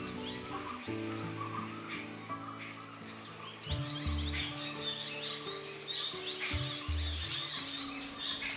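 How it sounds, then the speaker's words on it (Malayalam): Many birds chirp and call at dusk, with bright, overlapping tweets scattered through the clip over low, steady background tones. There is no talking. "ആ കിളികളുടെ ശബ്ദം കേട്ടോ."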